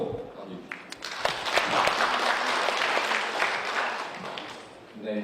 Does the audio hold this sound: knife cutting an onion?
no